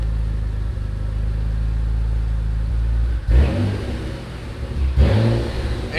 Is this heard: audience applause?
no